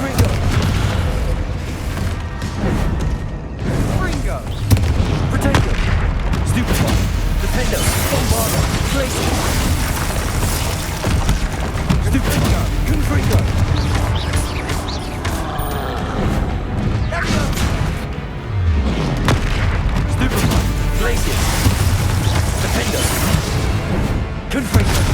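Confringo fire spells burst in Hogwarts Legacy combat, a dense barrage of loud, booming explosions and crashing impacts that runs almost continuously, with brief voice shouts mixed in.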